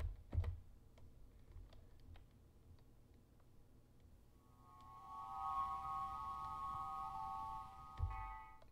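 Keys on a computer keyboard are pressed a few times, sparse soft clicks in a quiet room, followed by a sustained electronic tone.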